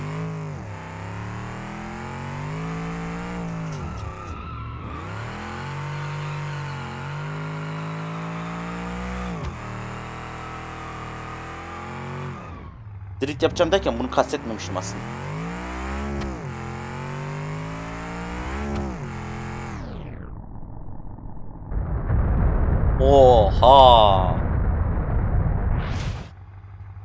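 A BMW driven hard in the BeamNG.drive racing simulator, engine revving and rising through gears, then a burst of crunching impact noise as it slams into a wall, with a loud rumbling aftermath; someone speaks briefly.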